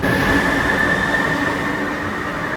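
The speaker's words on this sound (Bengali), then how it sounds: "শান্তি মেট্রোতে বসে" Metro train ride heard from inside the carriage: a steady, loud rolling rumble of wheels on rail with a thin, sustained high whine running throughout, and no voices.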